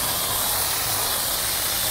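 Water spray rinsing loose brake dust and dirt off a car wheel rim, a steady, close, broadband hiss that runs unbroken for the whole stretch.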